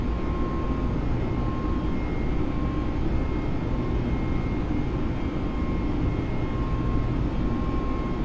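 Airliner engines, an Airbus A320 in a flight simulator, roaring at climb thrust in a steady, loud, continuous drone with a faint tonal whine running through, no voices.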